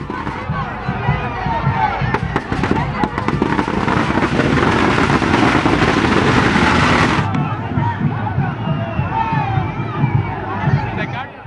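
Firecrackers bursting in a dense crackling barrage as party supporters celebrate a court acquittal outside a Poes Garden residence in Chennai, loud and close, with crowd noise and a narrator's voice over the bursts.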